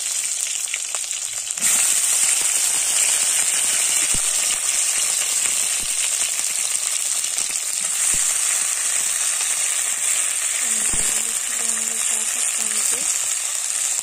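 Tomatoes fry with chillies in hot oil for a sweet-sour tomato chutney, a loud, dense, hissing sizzle that starts suddenly and holds steady throughout, with occasional stirring clicks.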